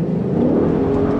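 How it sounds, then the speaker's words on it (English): A 2018 Ford Mustang GT with 415 brake horsepower spins its wheels pulling away from a roundabout on light throttle, giving a brief, loud, steady engine roar close by. "Wheel spin. Yeah, that was wheel spin."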